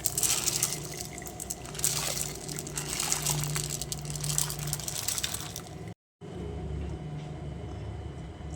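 Mung beans simmer in a pot of boiling water, a continuous close bubbling and watery hiss with a short cut to silence near the end before the cooking sound resumes.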